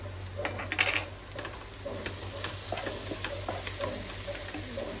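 Spices and chilli powder fry in a pan for chicken biryani, a soft continuous sizzle with faint scraping stirs and small clicks, quiet and close.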